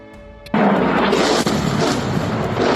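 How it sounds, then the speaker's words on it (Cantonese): Explosions from an Israeli missile strike at night, a sudden loud blast after a faint start that turns into a sustained roaring rumble with a sharp crack partway through, heavy and distant. "亮光照亮夜幕，爆炸声响彻云霄。"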